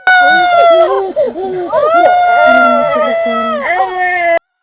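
A baby crying loudly in the film Atanarjuat, wavering wails with sobbing breaks mixed with excited adult voices, heard close and continuous before stopping abruptly.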